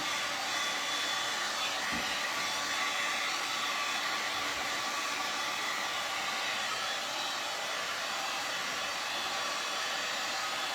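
A hair dryer runs steadily, drying a black-painted piece of furniture with a constant close, airy whoosh and no changes for the whole stretch. No one speaks over it.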